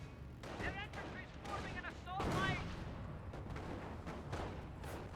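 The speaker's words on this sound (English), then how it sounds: "M1 gun firing away." Booming gunfire from an M1 gun in the strategy game Company of Heroes sounds repeatedly amid battle noise, heard under continuous voice chatter.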